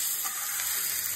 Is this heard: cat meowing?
no